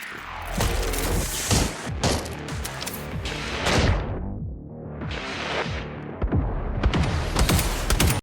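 Continuous automatic gunfire with infinite ammo during an overdrive burst in the video game Replaced, loud dense rapid shots and thuds that stay heavy throughout, with a brief lull near the middle before the barrage resumes.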